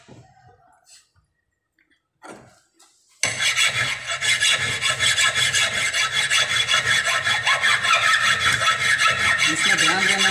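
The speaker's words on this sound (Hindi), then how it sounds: "तुरंत इसको पहले हम लोग घिसेंगे और हम राइट एंगल को इसको तैयार करेंगे" A hand file rasps back and forth across a workpiece to square it to a right angle, steady loud strokes after a few faint scrapes and a quiet start.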